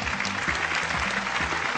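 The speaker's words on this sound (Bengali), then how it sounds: "ননির জন্য একটা জোরে হাততালি।" Loud, steady applause from a television singing-contest studio audience, dense clapping that fills the whole short stretch without pause.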